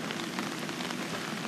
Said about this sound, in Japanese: 雨降ってるよ。